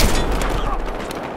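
An incendiary grenade is thrown in the video game Battlefield Hardline, giving a loud, dense burst of noise with crackling, gunfire-like texture that fades slowly over about a second.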